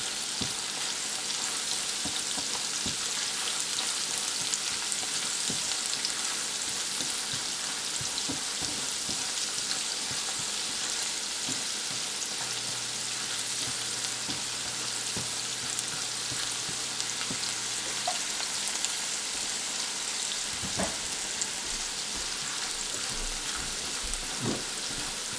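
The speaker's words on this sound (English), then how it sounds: "We'll add a little bit of salt to get the onion to saute quick." Onions with a little salt sauté in a pan for cabbage thoran, a steady, close, dense sizzle and crackle throughout, with occasional soft stirring clicks and no talking.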